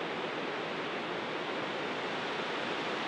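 A waterfall near an old power station on the Cornell grounds, a steady broadband rush of falling water heard from some distance, faint and unbroken with no voices.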